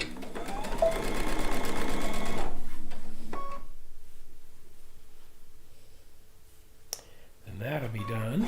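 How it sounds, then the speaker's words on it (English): A sewing machine stitching an extra strip onto a blue and white quilt top, running in a steady rapid rhythm for a few seconds, then quiet, then a click and a voice starting up. "I'm going to go ahead and sew this on."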